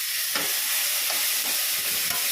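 Food frying in a pan with a little salt and turmeric, giving a steady loud sizzle with soft scraping stirs about every half second; no one talks.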